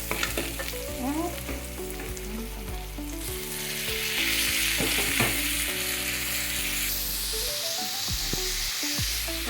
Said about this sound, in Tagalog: Ayan na, ginisa na natin.